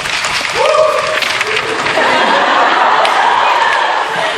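A male student cheers among a group of students, a lively voice rising over a dense, noisy crowd of chatter and mingled sounds that fill the whole span.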